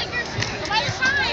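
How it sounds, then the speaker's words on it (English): Crowd at a high school football game on senior night, a dense murmur of many voices chattering in the stands, with a nearer voice speaking over the steady babble. "We've got a real good crowd so far."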